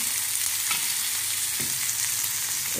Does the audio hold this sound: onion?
yes